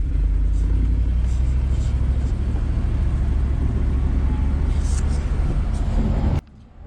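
Interior rumble of a 1965 Lincoln Continental convertible barn find on a road test drive after a transmission vacuum modulator swap: a loud, steady engine and road drone that drops off abruptly near the end.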